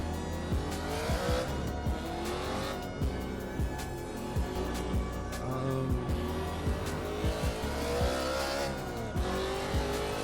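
Race car driven in the Assetto Corsa racing video game, its engine revving loud and continuous with rising and falling pitch through gear changes, tire squeal and brief skids layered over a dense, steady game soundtrack with no talking.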